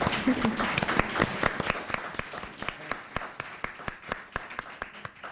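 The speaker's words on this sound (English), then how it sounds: "So if everyone can give them a warm applause." Audience clapping for a panel at the end of a discussion event, a brief round that thins into sparse, distinct individual claps fading out over several seconds.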